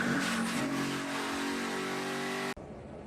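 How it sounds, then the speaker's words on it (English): NASCAR Xfinity Series stock cars roar loudly past under racing conditions, with a dense sustained engine drone and tire noise that cuts off abruptly near the end into a quieter background. "Listen to the tires for them."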